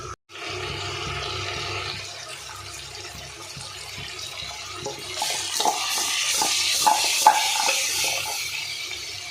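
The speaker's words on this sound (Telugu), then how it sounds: "ఇప్పుడు ఇవన్నీ మనం వేసుకున్న నూనెలో ఒక 10 మినిట్స్ ఇలానే బాగా ఫ్రై చేసుకోవాలి." Goat trotters frying in oil in a pan, a steady hiss and sizzle with scraping stirs that grow louder and busier toward the end.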